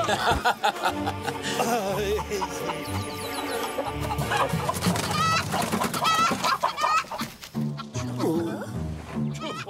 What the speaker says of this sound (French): Cochonnerie de poulet!